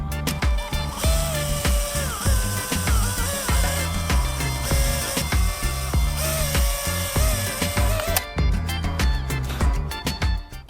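A power drill bores holes into a wooden piece, whining in loud repeated bursts with pitch shifts as the bit bites and releases, each burst separated by short pauses.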